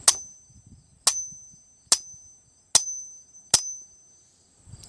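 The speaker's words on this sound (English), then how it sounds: "we'll take the hammer and we'll tap the back of the hammer and see what we get" A hammer strikes the back of the hammer on a Kimber Ultra Carry .45 ACP 1911 pistol: five sharp, ringing metallic taps spaced about a second apart, each ending in a short bright ring, with faint handling noises between.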